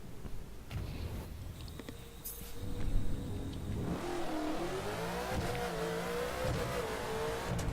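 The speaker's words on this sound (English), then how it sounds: "Oh, I'm in a full spec Ferrari." A full-spec Ferrari engine in the driving game The Crew, a low rumble of road noise that swells into a revving, accelerating drone with shifting pitch, alongside some tire noise.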